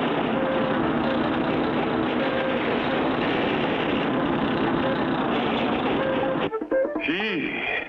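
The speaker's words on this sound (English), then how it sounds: "We'll use this as a bulldozer to push the oily sand back" A cartoon bulldozer engine from a 1959 Clutch Cargo animation grinds and rumbles loudly and continuously, pushing oily sand, then drops away near the end as a voice speaks.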